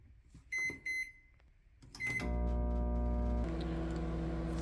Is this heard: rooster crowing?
no